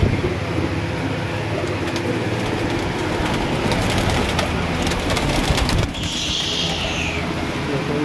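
A flock of about 45 pigeons kept in Lahore, heard as a dense, continuous rustle of wings and cooing with a steady noisy background, briefly changing near the end.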